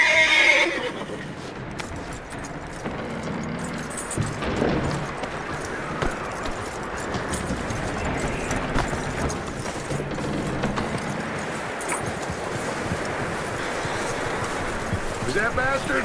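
In the Red Dead Redemption 2 video game, a skittish horse gives a loud whinny at the start, followed by hoof clops and a restless ambient outdoor bed with game sounds.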